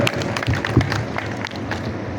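Audience applause at a book launch in Jodhpur, a steady wash of clapping from a crowded hall that holds at an even level throughout, with no voices over it.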